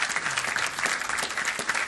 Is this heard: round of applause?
yes